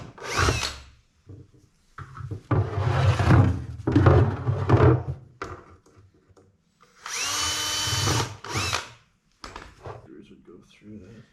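A power drill drives screws into steel tubing in a winter project build, with several bursts of whirring separated by pauses and someone talking between the runs.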